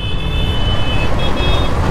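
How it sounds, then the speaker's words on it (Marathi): City road traffic in Ahmedabad, a steady loud rumble of passing cars and other vehicles close by, with a faint tonal whine above the continuous roar. "तर आता अहमदाबादची ट्रॅफिक"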